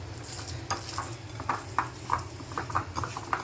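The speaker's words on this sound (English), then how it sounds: "I'm going to mix it with hand" Black-eyed pea (lobia) vada batter mixed by hand in a bowl gives close, wet squelching pats and slaps in an irregular rhythm, with a faint background hiss. No one speaks.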